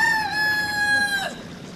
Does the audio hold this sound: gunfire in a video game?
no